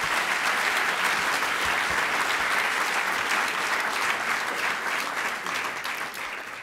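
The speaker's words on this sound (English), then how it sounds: "round of applause" Sustained audience applause fills a large room at a benefit dinner, dense steady clapping from many people that slowly tapers off near the end.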